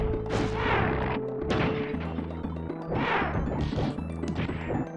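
Fighting sound effects from the video game Justice League Task Force, resembling Street Fighter and Mortal Kombat effects: repeated loud smashing and thwacking impacts over a steady synthetic backdrop, with several quick bursts of crunching hits, close and punchy.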